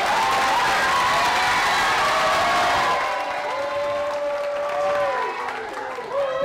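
A crowd applauds and cheers for a performing singer, giving a dense wash of clapping that fades after a few seconds, while voices with a melodic, sung quality rise above it and continue to the end.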